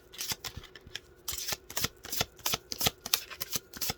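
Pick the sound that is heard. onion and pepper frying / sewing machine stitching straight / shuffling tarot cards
shuffling tarot cards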